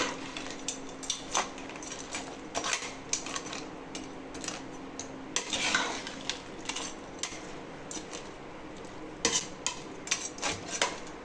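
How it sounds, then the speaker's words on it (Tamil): A utensil stirs a crab masala gravy in a metal pan, scraping and clinking in irregular strokes, close and moderately loud with a faint sizzle beneath and no talking. "இப்போ எல்லாத்தையும் நல்லா சேர்த்து மிக்ஸ் பண்ணிடலாம்."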